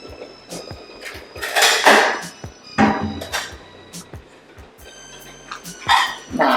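Bowls being fetched in a home kitchen, with repeated clattering knocks and clinks of dishes and cupboard doors in an irregular rhythm, close and fairly loud.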